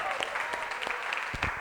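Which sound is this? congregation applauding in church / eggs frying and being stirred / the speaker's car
congregation applauding in church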